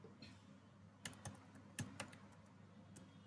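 Quiet, close keystrokes on a computer keyboard while C code is typed, a handful of light clicks arriving in short irregular bursts with no voice.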